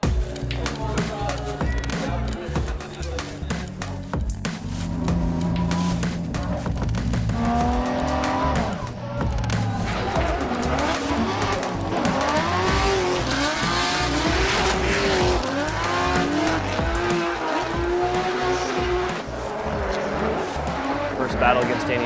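A Formula Drift Pro 2 race car roars through a drift battle, its engine revving and wavering over sustained tire squeal, continuous and loud throughout, with a voice talking over it.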